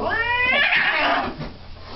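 An angry, defensive cat lets out a loud, close yowl that wavers and rises into a harsh caterwaul before trailing off, with no one talking.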